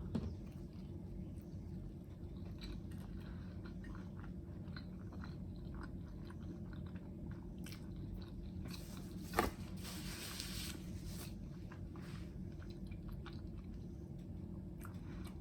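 Close, quiet chewing and biting on breakfast burritos filled with egg, spinach and melted cheese, a soft continuous mouth-noise texture with one sharper crunch midway, no talking.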